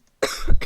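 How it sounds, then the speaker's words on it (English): A single sharp cough bursts out after a short silence, loud and close, with a rough, throaty tail lasting about half a second. "I don't know why I'm coughing so much"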